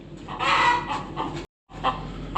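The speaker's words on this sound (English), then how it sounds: "And there's the chicken." A chicken on a farm where pigs and a boar are kept clucks in a few close, fairly quiet bursts, with a brief gap of silence between them.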